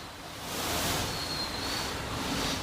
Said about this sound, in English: That water cascading into this condo.